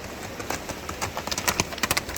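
Horse hooves strike mountain stones in a quick, uneven series of sharp clops, fairly close and growing denser toward the end, with no talk.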